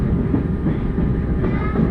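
A passenger train ride at the North Carolina transportation museum, giving a steady, close, continuous rumble of rolling wheels and carriage noise, with no talk over it.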